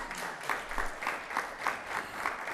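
A crowd at a community Tardeada celebration in Tempe applauds two young honorees, steady clapping with rhythmic surges, moderately faint and heard alone.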